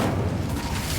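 Incendio fire spell cast in Hogwarts Legacy, a dense, loud burst of low rumbling flame that roars steadily for about a second with no break.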